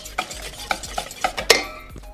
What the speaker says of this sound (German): Also, jetzt wird einmal den Teig vorbereitet.